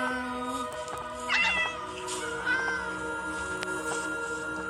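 Several cartoonish cat meows ring out over steady electronic tones in a farm-building video game, a couple of them standing out louder than the rest.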